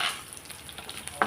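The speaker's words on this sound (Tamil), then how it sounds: "முந்திரி பருப்பு நல்லா பொரிஞ்ச உடனே நம்ம அடுப்பு ஆஃப் பண்ணிடலாம்" Cashew nuts frying in oil in a pan with chopped green chilli and curry leaves, a soft crackling sizzle with light stirring scrapes and a brief louder crackle near the end.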